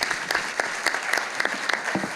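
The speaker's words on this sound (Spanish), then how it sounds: "Un aplauso para ellos." Audience applauding panelists at a renewable energy panel, brisk individual claps clearly separated, moderately close, with a faint voice mixed in.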